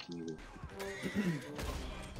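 A horse whinnies in the Red Dead Online video game, a short high neigh with hoof and impact sounds, heard amid other game effects during a brief moment when the horse dies.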